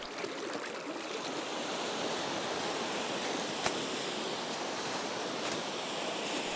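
A waterfall on a river in southern Sweden pours with a dense, steady rushing roar, broadband and unbroken, heard near and alone with no voices.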